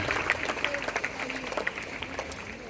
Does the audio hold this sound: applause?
yes